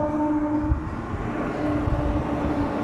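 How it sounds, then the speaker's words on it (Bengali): A passing train on the railway just outside a village home gives a continuous low rumble with a faint steady tone riding over it, sustained and even, heard alone without voices. "এই যে ট্রেনের আওয়াজ নিশ্চয়ই শুনতে পাচ্ছ।"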